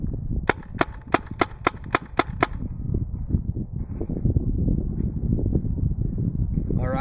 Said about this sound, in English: I'm now going to do the same and fire a few more shots to make sure we're landing in the same area.